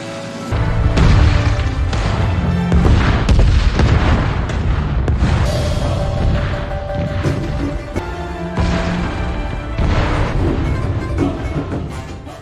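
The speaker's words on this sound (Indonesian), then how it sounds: "Ma Yuan yang melihat kesempatan untuk meledakkan jembatannya, tanpa berpikir panjang langsung meledakkan bahan peledak itu." Explosives blow up a railroad bridge in the film Railroad Tigers, a run of heavy booms and blasts with rumbling aftershocks and dense battle noise across the whole stretch, loud and close.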